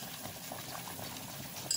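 A pot of Moroccan chicken dagmira with onions bubbles softly as it simmers, a faint continuous burble of boiling liquid.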